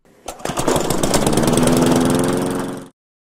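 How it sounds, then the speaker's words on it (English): A lawnmower engine runs with a rapid chugging pulse for a few seconds, close and fairly loud, then cuts off abruptly. "or a lawnmower."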